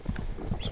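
Hooves of a stallion clip-clop on the ground as it is driven toward a herd, with a few quick, close, steady thuds over a brief stretch.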